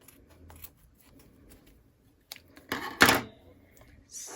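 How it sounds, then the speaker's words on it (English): Scissors snip through chunky yarn close to a sewn seam, making a couple of short, crisp cuts in quick succession against an otherwise quiet room. "At this point, we could cut our chunky yarn."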